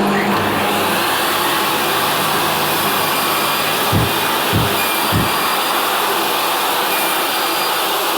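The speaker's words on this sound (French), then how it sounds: "Aspirateur, ok." A shop vacuum dust extractor hooked up to a Bosch EXTS 100-254 X table saw gives off a loud, steady, close whooshing roar that stays level the whole time, broken by a few soft low thumps.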